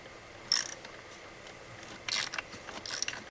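Ratcheting wrench clicks while loosening the cylinder nuts on a Husqvarna 55 Rancher chainsaw, three short bursts of metallic ratchet clatter, close and fairly quiet, with no talking.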